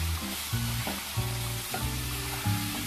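Marinated fish pieces added to hot oil with fried spices over medium heat. A close, steady sizzle runs throughout, with brief clatters of stirring and no speech.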